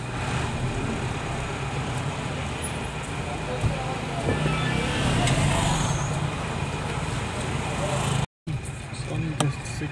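Heavy road traffic on the Dimapur to Kohima road, with a steady wash of car and truck engine rumble, a passing vehicle swell and voices talking over it.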